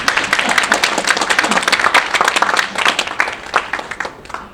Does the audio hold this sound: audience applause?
yes